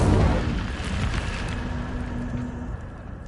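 An Incendio fire spell from Hogwarts Legacy bursts with a loud booming blast, then a rumbling, crackling tail that slowly fades.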